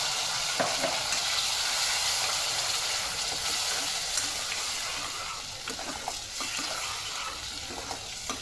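Onion, garlic, tomato and cashew paste sautés in a hot pan for homemade paneer masala, a steady close sizzle and hiss with light scraping stirs running throughout without pause.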